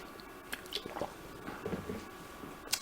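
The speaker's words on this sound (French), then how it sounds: "On va prendre une gorge d'eau, j'ai soif." Someone takes a gulp of water close to the mic: soft wet squishing and swallowing sounds with small drips and clicks, quiet and intermittent, no talk.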